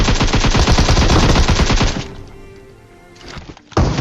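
Rapid gunfire in a battle royale video game, a loud close burst of fast repeated shots lasting about two seconds, then a quieter lull before a final sharp shot.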